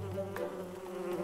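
A cartoon bee buzzes in a short, steady drone, close and fairly quiet, heard alone for just over a second.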